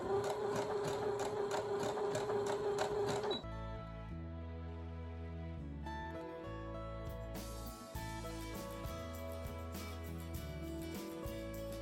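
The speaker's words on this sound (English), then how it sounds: "when you're sewing this, because there's so many curves around the tree, you're going to have to keep stopping and going." A sewing machine stitches around the curves of a fabric St. Patrick's Day placemat. Its steady mechanical whir shifts tempo and pauses briefly as it stops and starts again, heard close up.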